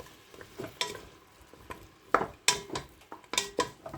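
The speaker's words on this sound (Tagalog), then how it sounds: "Yan, igigisa ko lang siya." Pork spare ribs sautéing in a pan for a soup, with intermittent stirring clatter and soft sizzling, several sharper scrapes of utensil against the pan close by.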